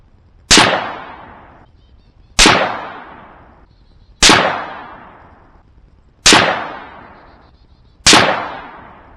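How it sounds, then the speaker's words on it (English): Five single shots from a Savage A17 rifle in 17 HMR, each a sharp loud crack with a ringing decay, spaced evenly about two seconds apart outdoors, no voices. "Let's go on out there and get to shooting this thing"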